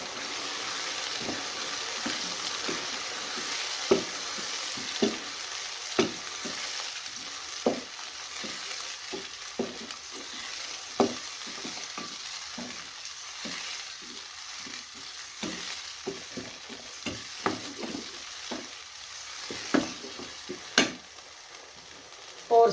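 Minced meat and tomato paste fry in a pan for Peshawari keema with cauliflower, a constant sizzle punctuated by regular clinks and scrapes of a spoon stirring, close and alone.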